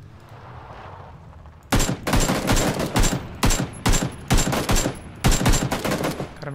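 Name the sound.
gunfire in PUBG Battlegrounds video game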